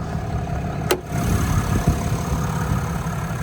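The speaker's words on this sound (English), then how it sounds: "This 2024 engine really is not that loud. You can hear me just fine as this thing idles." A 2024 Cummins 6.7L inline-six diesel idles with the hood open, a steady close rumble with a light knock and one sharp click early on.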